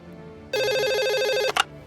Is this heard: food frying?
no